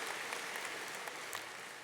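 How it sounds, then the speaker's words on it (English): A graduation crowd claps for retiring staff with steady, dense applause at a moderate distance that fades slightly toward the end. "Ladies, would you please stand so we can give you a round of applause?"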